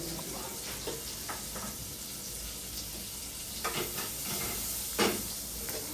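Onion frying in a pan makes a soft, steady sizzle, with a few light knocks and scrapes from stirring scattered through it, fairly quiet and close.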